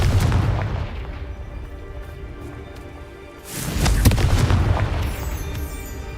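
A Confringo explosion spell goes off in the Hogwarts Legacy video game: a loud, booming blast bursts in about halfway through and rumbles on over the steady game background.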